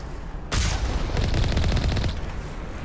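Gunfire in the Mass Effect 1 video game: after a brief lull a dense, rapid automatic burst erupts loudly, hammering steadily for about a second and a half before easing back into the game's rumble, with no talk.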